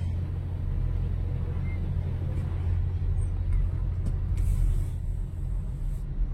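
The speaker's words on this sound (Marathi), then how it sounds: "हे पूर्ण ट्रॅफिक आहे," Heavy road traffic near Thane at night heard from inside a car, a steady low engine and road rumble that holds throughout with faint higher hiss above it and no talk.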